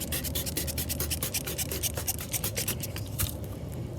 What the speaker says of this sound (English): You can put your sandpaper on on a sanding block or a piece of wood